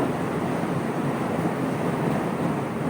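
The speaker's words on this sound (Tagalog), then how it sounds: "Ito yung hangin." Steady, loud wind rushes and roars without pause, buffeting the microphone with a constant broadband hiss.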